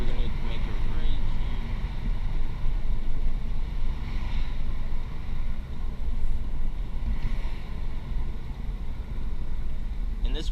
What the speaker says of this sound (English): Sorry if there's a lot of road noise and stuff like that.